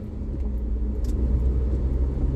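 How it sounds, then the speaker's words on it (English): Car passing by on a residential street, a low road rumble that swells gently as it approaches, heard alone at moderate volume. "you clearly see a car coming and you still going"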